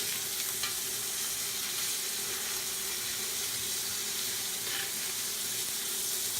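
Food sizzling steadily in a hot frying pan while being basted, a continuous close crackle with faint clinks of utensils and a watery hiss, with no talking.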